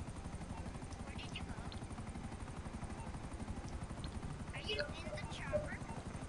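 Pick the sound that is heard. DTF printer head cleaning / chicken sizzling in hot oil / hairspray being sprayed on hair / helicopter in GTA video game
helicopter in GTA video game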